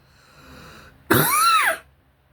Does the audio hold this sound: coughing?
yes